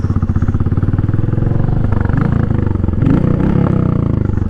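A Royal Enfield Meteor motorcycle engine thrums steadily while riding on a gravel dirt road, its loud, close, rhythmic exhaust pulse holding throughout with clattering from the road surface and no talk.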